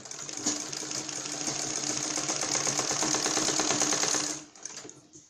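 A sewing machine runs in a steady fast chatter of stitches for about four seconds as it attaches a side lace to a blouse, then stops abruptly with a faint click after.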